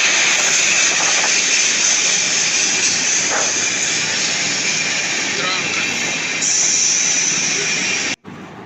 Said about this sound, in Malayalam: നമ്മുടെ കൊല്ലം തിരുപ്പതി സൂപ്പർ ഫാസ്റ്റ് എക്സ്പ്രസ് വണ്ടി വന്നുകൊണ്ടിരിക്കുകയാണ്